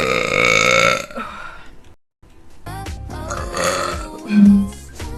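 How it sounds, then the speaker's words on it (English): A woman lets out a long, loud, close burp during a tipsy gaming stream, then after a brief silence a second rumbling belch follows under other sounds. "Have to burp."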